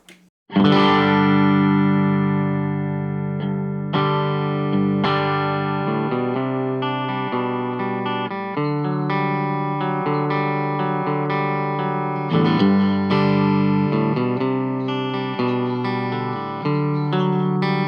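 A sustained electric guitar played in full strummed chords, fairly overdriven through an amp with no pedal, ringing continuously with a few chord changes and no talking.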